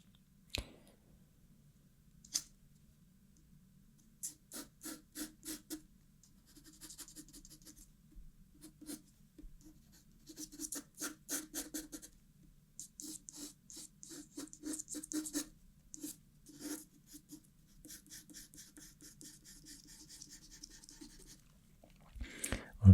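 Pencil scratching and scribbling on paper while sketching a triceratops, soft close strokes in irregular bursts over a low steady hum, quiet and intimate throughout.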